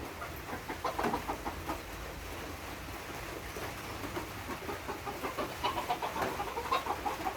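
Caged chickens cluck softly and repeatedly nearby, layered over a steady hiss that sounds like rain.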